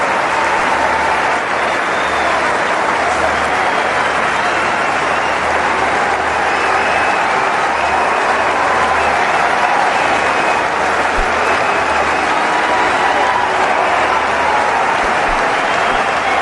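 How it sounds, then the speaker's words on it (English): An Indian cricket crowd applauds in a long, loud, continuous ovation as Virat Kohli walks off after his 138 against South Africa; the dense clapping from a large stadium holds steady throughout with no voice over it. "Great ovation from the Indian crowd."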